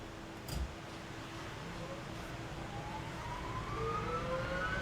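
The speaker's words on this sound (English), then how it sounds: "Engine start is in progress, RPM starts spinning up." A Bell UH-1H Huey helicopter turbine spools up during engine start in a flight simulator game, a thin rising whine climbing steadily over a constant rumbling roar, with one brief low thump near the start.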